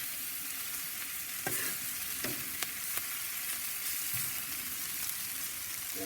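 Philly sandwich meat and cheese sizzle on a hot soapstone slab on a Big Joe grill, a steady close frying hiss punctuated by a few scraping stirs of a utensil.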